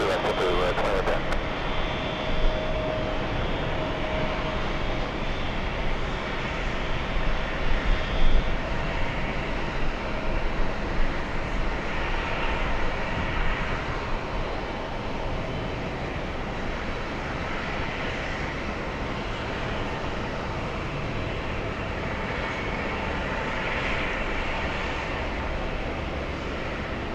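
Jet airliner engines roar continuously at JFK airport, a broad steady rumble at moderate distance, with air traffic control radio chatter faintly underneath.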